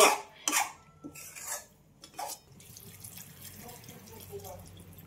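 Water poured into a cooking pot for a Malvani-style prawn curry, a few splashy gushes at the start giving way to softer trickling and bubbling, close by with faint kitchen clatter.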